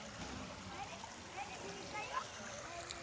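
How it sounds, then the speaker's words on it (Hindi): Rainwater runs past a few houses after a downpour, a steady broadband wash of flowing water with occasional splashes, continuous throughout, with voices talking nearby. "कितना पानी चल रहा भाई,"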